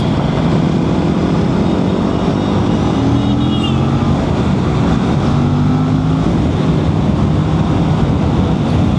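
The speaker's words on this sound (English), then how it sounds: "Pull the throttle and see how RS457 leaps forward like a beast." An Aprilia RS457 motorcycle accelerating on a ride to Garga Dam, its loud engine droning continuously with rising pitch sweeps as it pulls hard, mixed with heavy wind rush.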